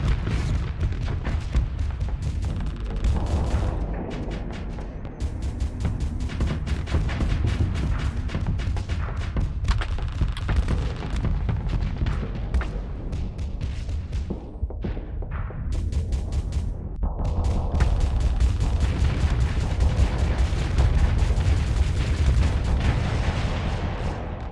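Dense, continuous barrage of missile launches and explosions rumbling steadily through a Starsector space battle, loud and sustained throughout with layered booms and crackling impacts.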